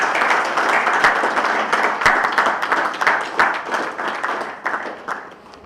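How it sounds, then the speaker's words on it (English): An audience at a guest lecture gives a loud, sustained round of applause, dense continuous clapping that tapers slightly toward the end. "please join me in giving a big round of applause"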